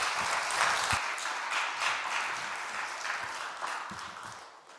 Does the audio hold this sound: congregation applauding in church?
yes